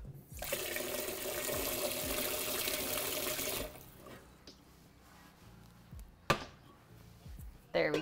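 A kitchen faucet runs into a cooking pot for a few seconds to top up the water, a dense steady gush that stops sharply, leaving light clatter and handling noises.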